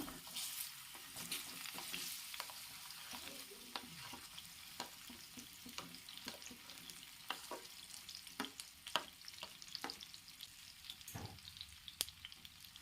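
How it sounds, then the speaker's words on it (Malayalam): Sliced ripe nendran plantain fries in hot ghee with a steady, faint sizzle, and occasional crackles and stirring clicks sound throughout. "ഇനി നമുക്ക് ആ നെയ്യിലേക്ക് തന്നെ നമ്മൾ അരിഞ്ഞ് വെച്ചേക്കുന്ന ഏത്തപ്പഴം ചേർത്ത് കൊടുക്കാം"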